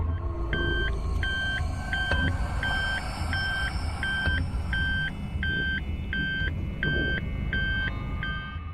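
A vehicle backs up with a steady train of regular reversing beeps sounding over a continuous low engine rumble, the beeps evenly spaced and clear throughout.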